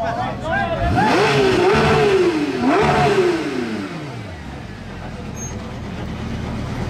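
A Porsche 911 GT3 supercar passing among supercars in Nice, engine revving hard in two rising and falling surges, loud and close, then fading away.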